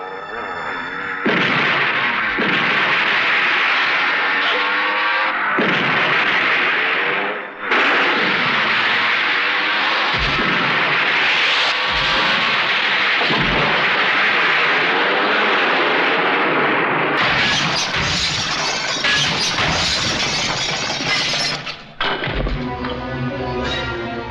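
Gunfire erupts in a Hindi film action scene, with loud, dense bursts of shots and booming blasts that continue almost without a break, and a short pause partway through.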